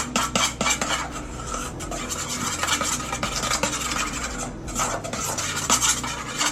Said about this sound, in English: So then just mix it together.